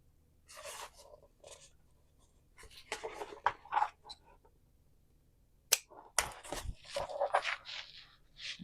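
Scissors make short, crisp snips into folded fabric to mark its centres, quiet close cuts and rustles arriving in small bursts separated by pauses.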